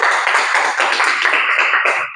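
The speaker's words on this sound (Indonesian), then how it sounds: "Ya, bagus sekali, tepuk tangan." A class of students breaks into brief applause, a bright, dense patter of many hands clapping for about two seconds, close and fairly loud, with no talking.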